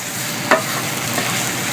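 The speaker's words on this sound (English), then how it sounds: "We've been sauteing this off about 5 minutes" Chopped celery and onion for a mirepoix sauté in a pan, a steady close sizzle with one brief stir or clatter early on.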